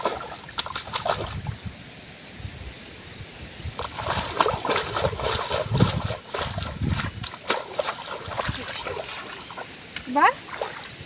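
Water splashes and sloshes in irregular bursts as a large mud crab, dug from a hole in the deep Sundarbans forest, is rinsed of caked mud, with a voice heard faintly at times.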